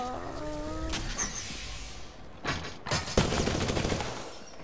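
Bursts of rapid gunfire in the shooter game Apex Legends, a few short volleys crackling out mid-clip over a quiet in-game background, with no speech.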